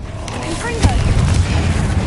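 A Confringo fire spell explodes in the game Hogwarts Legacy: a sharp blast lands about midway, followed by a heavy rolling boom within a loud, busy combat mix, with a spoken incantation.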